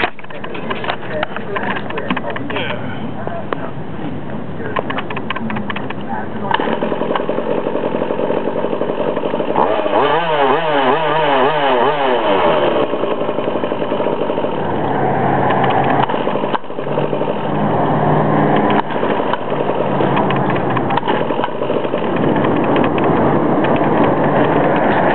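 A Goped's small gas engine, with no clutch, runs steadily the whole time with a rattling, ratchet-like mechanical whir, its pitch shifting briefly midway, with some talk over it.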